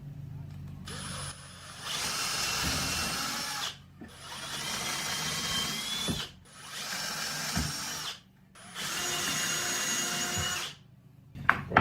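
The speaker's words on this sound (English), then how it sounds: "We're going to drill a hole right through there," A power drill whines in several long bursts through scrap wood drilling a pilot hole, stopping briefly between each, loud and close.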